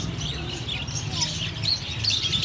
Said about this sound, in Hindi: ये ऐसे खूबसूरत है तोते